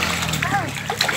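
Children splashing in a swimming pool, lively splatter and sloshing water close by, mixed with kids' voices and chatter throughout.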